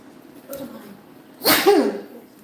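A single loud, sharp sneeze close by, preceded by a faint intake of breath.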